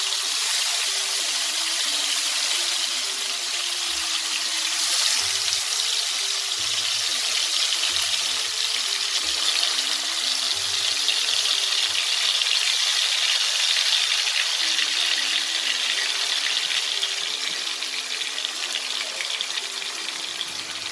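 Chicken pieces sizzle steadily in a pan on high flame, a loud, even hiss of frying oil that runs without a break.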